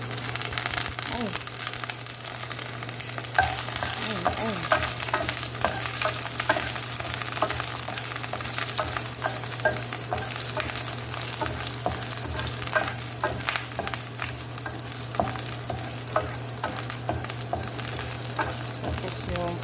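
Garlic sautés in a pan, with an even, moderately loud sizzle and frequent stirring scrapes and clicks over a constant low hum, and a voice talks now and then underneath.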